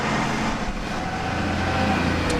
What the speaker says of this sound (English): Apologies for the noise in a minute because the dustbin cart's coming past.